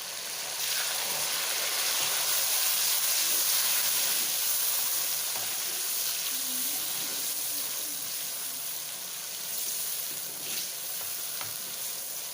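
Tomatoes frying in a hot pan while cooking dal, a steady, dense sizzle that stays loud and even throughout, with faint stirring and bubbling beneath.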